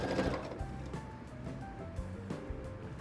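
Sewing machine stitching around the edge of a tray cloth worked in ponto crivo, a steady close mechanical whir with soft needle ticks and faint rustling of fabric.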